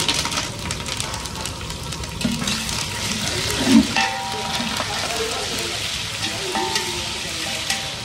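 Curry leaves crackle and sizzle in hot flavoured oil in a home kitchen, a steady frying hiss with a brief louder spit partway through, heard alone.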